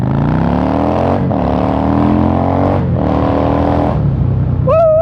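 A 1997 Yamaha XVS650 DragStar bobber revs hard close up, the engine climbing through gears in three rising pulls with brief shift dips before settling, then a short whoop breaks in at the end.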